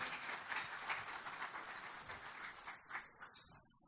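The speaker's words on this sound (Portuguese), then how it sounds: "por favor, uma salva de palmas" Audience applause at a tax-reform debate dinner, a steady wash of many hands clapping that thins and tapers off toward the end, fairly quiet and without talk.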